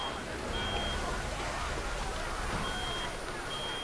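A machine alarm in the video game Reverse: 1999 sounds as short, high electronic beeps at intervals over a loud, steady roaring rumble, with no voices.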